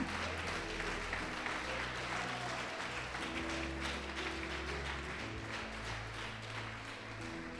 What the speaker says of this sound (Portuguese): Pode aplaudir o Senhor Jesus e glorificar.